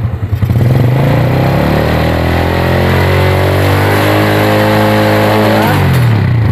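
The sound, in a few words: Yamaha Vega R/Jupiter motorcycle engine revving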